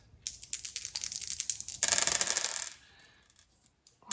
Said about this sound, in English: I'm gonna hit back with my 2 dice, praying I roll high